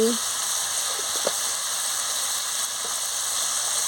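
Potatoes sautéed with salt and sugar for aloo dum give off a steady, even sizzling hiss in the pan, with only faint occasional stirring ticks.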